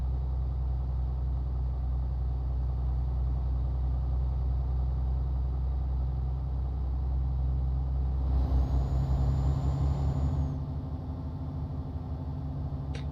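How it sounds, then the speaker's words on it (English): A deep, steady Scania truck engine in the game Euro Truck Simulator 2 drones throughout, with a rough rumbling surge and a brief high whine midway before settling back to a low idle. "the Scania's got the best sounding engine, I believe, in this game"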